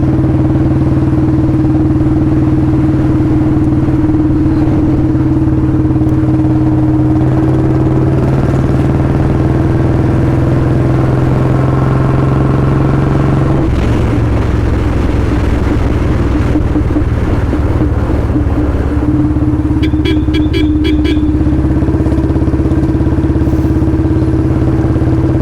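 A Royal Enfield Bullet 350 fitted with a free-flow L-bend exhaust thumps loudly while being ridden, a deep steady engine drone with shifts in pitch and a brief dip mid-ride, heavy wind buffeting throughout.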